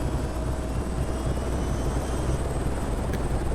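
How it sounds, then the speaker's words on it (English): A steady, low rotor drone of a video game helicopter runs continuously and fairly loud, with a faint high whine above it, and no talking. "I hear helicopter."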